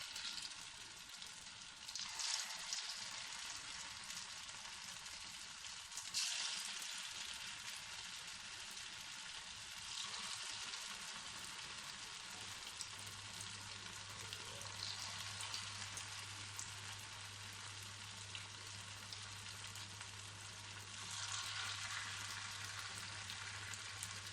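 Small potato pop balls dropped into hot oil and frying, a dense, even hiss of sizzling bubbles close by, steady throughout with slight swells and a low hum underneath.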